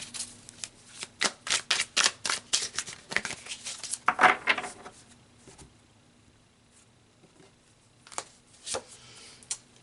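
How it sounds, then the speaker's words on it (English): Tarot cards being shuffled and drawn, a close run of quick riffling and flicking bursts at first, then a pause and a few scattered card snaps. "So let's pull some more cards here, Sagittarius, to clarify further."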